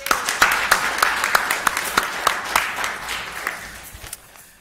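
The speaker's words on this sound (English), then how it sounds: "Shall we have a final round of applause for those awards?" Small church congregation clapping after an awards presentation, individual claps distinct and uneven, fairly close, fading gradually toward the end.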